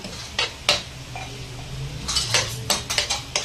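Pieces of chicken going into a cooking pan for a Filipino tomato chicken dish: a series of sharp metallic clatters and scrapes, close and fairly loud, over a soft sizzle.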